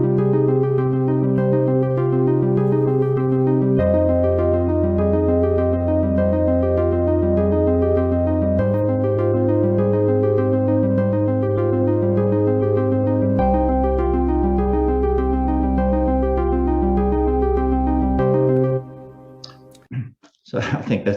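Minimal, a sequencer piece built from just four notes cycled by four separate playheads, plays as a steady looping electronic pattern with a shifting bass note, ending in a brief scrape of noise.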